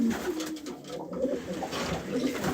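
Pigeons coo steadily inside a breeding loft, a soft rolling murmur of several birds close by that fills the whole stretch without pause.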